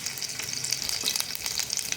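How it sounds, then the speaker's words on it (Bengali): Crushed ginger and garlic sizzling in hot mustard oil in a pan, a continuous bright crackle with fine spattering pops, close and steady. "তেল গরম হয়ে গেছে, আমি এখানে আদা রসুন থেতো করে দিয়ে দিচ্ছি।"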